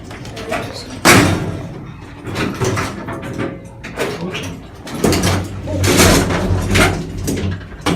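Otis traction elevator door in a Winnipeg building sliding and thudding shut, with mechanical rumbling and clunks across the clip and a person talking over it.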